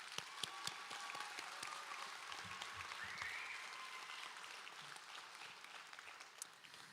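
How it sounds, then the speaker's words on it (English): A graduation ceremony crowd applauds steadily throughout, a dense wash of many hands clapping at moderate distance, with a few sharper individual claps standing out. "Give yourselves another round of applause"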